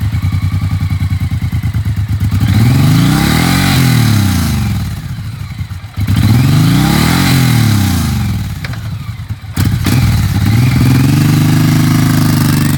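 A used 2017 Suzuki Boulevard M109R BOSS heavyweight V-twin motorcycle revs up and falls back three times, loud and close, its deep engine note rising and sinking between steady idling with no talking.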